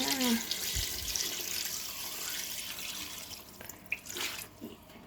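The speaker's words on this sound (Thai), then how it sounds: "เทน้ำปรุงลงไปเลยจ้า" Seasoning liquid, fish sauce and brine, is poured over a mix of small and large salted fish to make Thai fermented fish pla ra, starting with a close, splashy gush that fades to a softer trickle and scattered drips.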